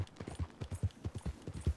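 Horse hooves clip-clop at a steady trot while riding through the wilderness in Red Dead Redemption 2, a quick regular rhythm of soft thuds, fairly close but quiet, with no talking.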